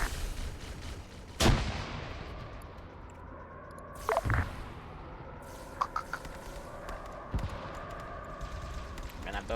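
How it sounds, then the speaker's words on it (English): Gunfire in the Arma OPTRE video game, shots fired up through a ceiling: a few sharp, separated bursts at irregular intervals over a steady background rumble, mid-distance and moderately loud. "I think they're trying to shoot him through the ceiling."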